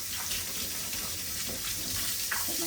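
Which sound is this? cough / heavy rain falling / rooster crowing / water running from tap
water running from tap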